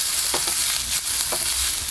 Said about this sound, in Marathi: थोडंसं ह्यामध्ये आपण तेल सोडूया आणि चांगलं असं लालसर होसपर्यंत आपण हे कांदा लसूण आलं वगैरे आहे ना पूर्ण असं आपल्याला परतून घ्यायचं.